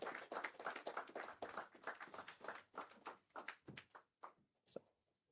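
Scattered audience clapping at a Nigerian sharing-experience series event as a guest speaker walks up, irregular hand claps and taps fading toward the end, fairly faint and close, with no talk.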